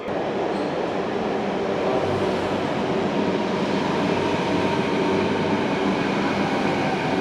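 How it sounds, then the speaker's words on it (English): An old subway train in China runs steadily in a loud, continuous rumble with rhythmic wheel clatter and roaring carriage noise, heard from inside throughout without any speech. "this is considered an old subway in China."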